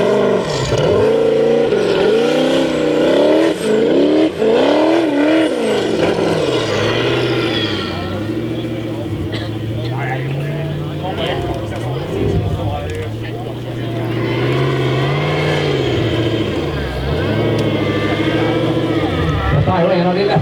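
A Formula Offroad race car with a modern Chevrolet LS engine revs and roars loudly through changing pitches at a Norwegian Cup event, with a commentator talking over it throughout.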